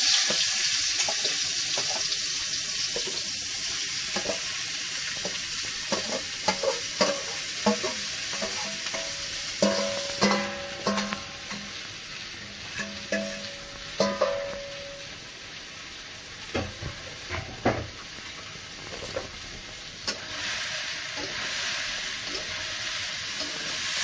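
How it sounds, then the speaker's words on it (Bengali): Steamed vegetables are stir-fried in oil in a pan, a continuous close sizzle with repeated spatula scrapes and clatters clustering through the middle stretch, no voices over it. "আমরা এখন ভেজিটেবলগুলো হালকা একটু ভেজে নিচ্ছি।"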